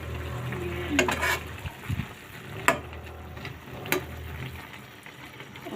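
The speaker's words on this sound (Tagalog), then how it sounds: "Haluin ko na siya." Pork adobo being stirred in a pan as it cooks, a few spoon scrapes and clinks against the metal over a low, steady simmering hiss, with quiet kitchen background and no talk.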